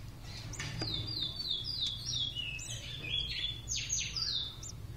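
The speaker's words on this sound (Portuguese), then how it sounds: "O bichinho tá piando." Soft, high peeping chirps from a blackbird chick hatching from its egg repeat in quick series, close by, over a low steady background hum.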